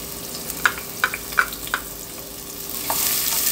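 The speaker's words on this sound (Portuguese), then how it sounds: "Agora eu vou estar tá colocando a cebola para dar uma refogada junto com o alho." Onion and garlic sauté in a thin film of oil in a pan, giving a soft continuous sizzle with a few sharp stirring clicks and scrapes, no voices.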